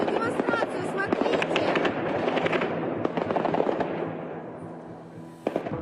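Rapid gunfire pops crackle continuously over a noisy outdoor scene in Kherson with voices, ending in a couple of sharper reports.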